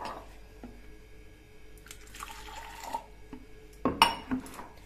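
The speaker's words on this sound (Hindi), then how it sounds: "तो इसमें डालेंगे बॉटल में हम पहले गर्म पानी" Hot water is poured into a bottle in a home kitchen while coffee is being made, giving a soft liquid trickle midway, followed by a few sharp clinks and knocks near the end, over a quiet background.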